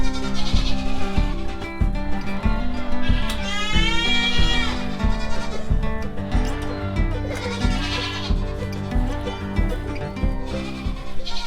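A barnful of goats bleats loudly in the early morning, with many overlapping calls near and far over a steady background hum and buzzing insects.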